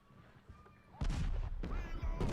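Artillery cannon fire in the Civil War strategy game Ultimate General: Civil War, a few heavy booming volleys that land about a second apart and ring out loud and close, with a quieter stretch of battlefield noise before the first blast.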